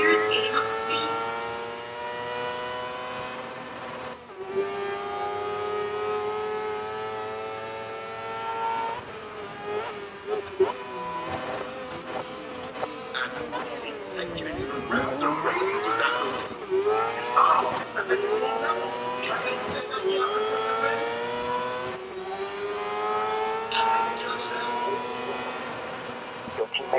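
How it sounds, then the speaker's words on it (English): An open-wheel race car engine in GRID Legends whines up through the gears, its pitch climbing and dropping with each upshift in repeated sweeps, close and buzzing, with a voice speaking over the engine. "Shifting through the gears, gaining up speed."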